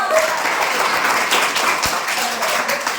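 Scattered clapping from a group during a Hindi poetry class for fifth-grade students, a light continuous patter with some talk mixed in.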